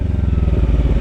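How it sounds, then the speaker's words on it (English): A motorcycle engine runs close and steady during a downshift with the throttle off and the clutch in, giving a low, even throb with rhythmic pulses and no voices. "it's let off the throttle, clutch in, downshift"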